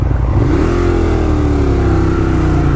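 A 2018 Ducati Monster 1200S with an aftermarket exhaust pipe, baffles left in, revs loudly up close, pitch climbing then holding in a sustained throaty drone.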